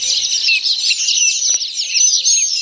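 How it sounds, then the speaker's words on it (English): Several birds chirp and twitter continuously in bright, high trills, fairly close, with no voices present. "You hear all them birds?"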